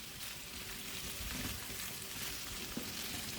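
Pork ribs and nopales fry in a pan with a steady, even sizzle that fills the whole stretch. It is fairly quiet, with no talking.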